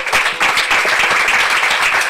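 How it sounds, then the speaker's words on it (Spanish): A congregation in a church claps loudly and steadily in dense, continuous applause that fills the whole moment. "Denle un aplauso al Señor."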